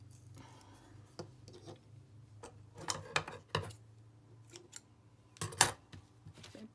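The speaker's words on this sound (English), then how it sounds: "Blunt those scissors." Scissors cut fabric for a Boro-inspired slow stitch journal in a quiet room, giving a few sparse, faint snips and rasps spread unevenly over a low steady hum.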